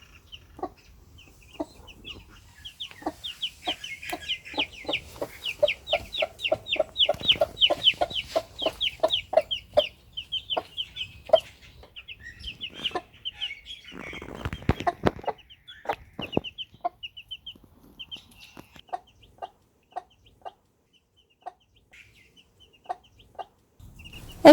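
A mother hen clucks on the ground of a chicken run, giving a long series of soft, rhythmic clucks in bursts, close by and fairly quiet, with brief pauses and a few scratchy rustles between.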